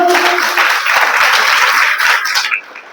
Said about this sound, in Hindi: ताली होनी चाहिए, जोरदार ताली